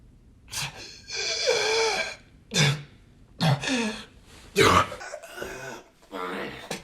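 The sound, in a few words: man coughing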